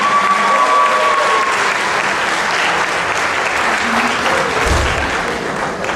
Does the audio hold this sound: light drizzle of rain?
no